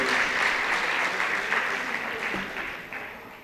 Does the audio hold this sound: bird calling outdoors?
no